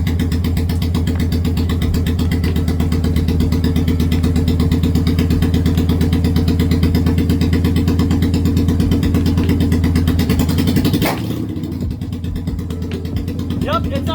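A Honda Shadow motorcycle engine, mid-repair, idles close by with a loud, even, throbbing pulse for about eleven seconds, then cuts out and leaves quieter background with faint clatter.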